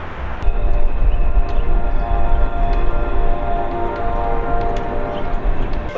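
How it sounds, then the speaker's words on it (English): An Amtrak Cardinal passenger train pulls into a station, its steady low rumble and rail noise holding loud and continuous throughout, with faint tonal squeals riding above. "Well, the train's getting ready to pull up."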